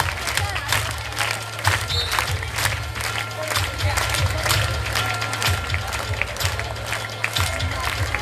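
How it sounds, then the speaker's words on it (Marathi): Students clap to applaud a human pyramid, a steady wash of applause from a large group, with a low rhythmic drumbeat thudding underneath throughout. "त्या टाळ्यांचा आवाज कमी पडता कामा नये."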